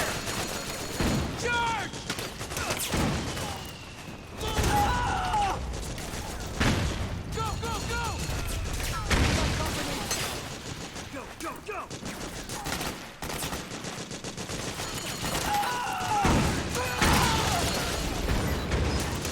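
Constant battlefield gunfire in Metal Gear Solid 4, with bursts of automatic fire, scattered single shots and mechanical clatter overlapping throughout, while game characters shout and talk over it.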